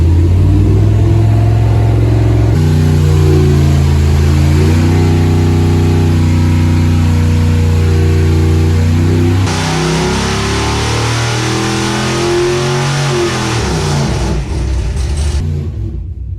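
A Mopar 440 V8 on a dyno is loaded and revved, its loud engine note climbing and falling through several pitch sweeps, then settling into a rougher, steadier roar.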